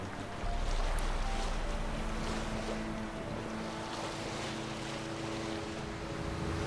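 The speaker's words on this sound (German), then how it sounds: "Segeln ist ja richtig schön einfach." A sailing boat moving across open water in The Witcher 3, with a continuous rush of waves and wind against the hull, broad and steady, alone with no voices.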